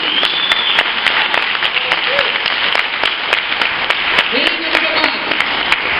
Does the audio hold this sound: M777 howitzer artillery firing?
no